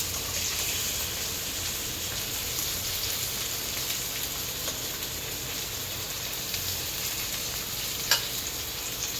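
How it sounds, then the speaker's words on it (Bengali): Boiled eggs fry in hot oil, a steady, even sizzle like light rain that runs the whole time at moderate loudness, with one brief sharp pop near the end and no talking. "এগুলো আমি লাল লাল করে ভেজে নেব।"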